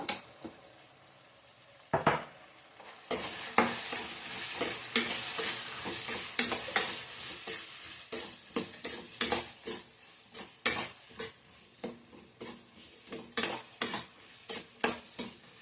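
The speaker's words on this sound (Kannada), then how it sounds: "ಸ್ವಲ್ಪ ಕರಿಬೇವು ಹಾಕ್ಕೊಂಡಿದ್ದೀನಿ ಚೆನ್ನಾಗಿ ಸ್ವಲ್ಪ ಫ್ರೈ ಆಗಬೇಕು" Curry leaves fry in hot oil for puri uppittu, with a steady sizzle under loud, rhythmic scraping strokes of a spoon against the pan, repeating quickly and close by with no voices.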